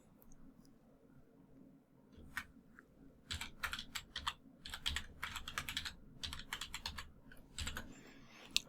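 Password being typed on a computer keyboard: bursts of quick, close key clicks in uneven runs, separated by short pauses, over a quiet room hum.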